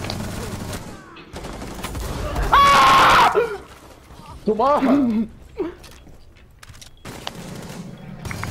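Bursts of gunfire from a shooter video game, with loud rapid shots mixed with excited shouting and chatter from several players talking over the action.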